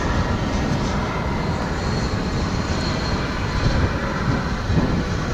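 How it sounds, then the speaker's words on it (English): American Airlines passenger jet landing at DFW International Airport after a flight from San Antonio, Texas; a continuous, moderately loud engine rumble and whoosh carries on alone with no talking. "Here comes flight 1596 from San Antonio,"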